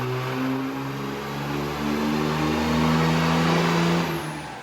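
A 6.7 Cummins diesel fitted with a Turbonator INT VGT turbo runs on a dyno, producing a loud, steady engine roar whose pitch climbs gradually as it pulls, with no talk over it.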